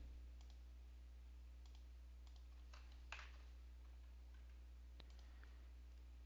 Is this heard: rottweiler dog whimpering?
no